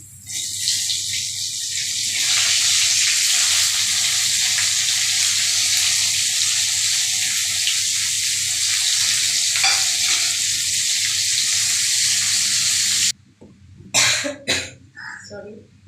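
Whole fish frying steadily in hot oil, a dense continuous sizzle for about thirteen seconds, then it cuts off and a few brief knocks and a cough follow near the end.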